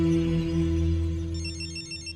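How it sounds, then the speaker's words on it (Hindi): A telephone rings in a Bollywood comedy scene, likely from a call placed at a PCO booth. The faint, repeating ring comes in during the second half over a low, steady background hum. "पीसीओ से फोन करते रहता है, शायद उसी का फोन है।"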